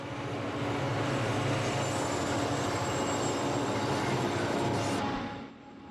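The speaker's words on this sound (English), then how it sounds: "The next scene will bring a trio of the 900 class of SD24s" A trio of Santa Fe EMD SD24 diesel locomotives from the 1959 900 class passes by, producing a loud, steady, close rumble with faint wheel squeal that drops away in the final second.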